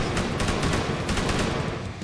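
Gunfire in the military shooter Arma 3 during urban house-to-house combat, a loud, dense fusillade of rapid overlapping shots with a machine-gun rattle, continuous and close, with no talking.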